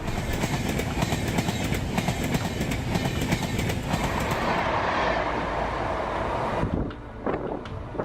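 A train roars past close by with a steady rush and rattle of wagons, fading toward the end with a few clacks and wind buffeting the microphone.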